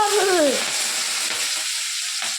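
Dried red chillies and curry leaves drop into hot oil, bursting into a loud close sizzle with a brief squeaky stir at the start, then settling into an even frying hiss.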